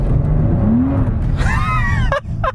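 A Mercedes SL65 AMG floored from a stop, a loud deep engine roar rising in pitch with a whining tone, then a couple of sharp bursts near the end.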